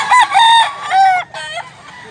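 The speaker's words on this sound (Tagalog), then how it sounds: "Duha din ni manok na Black Kini." A Black Kini rooster crows loudly and close by, one strained call followed by a shorter second burst, with no other sounds around it.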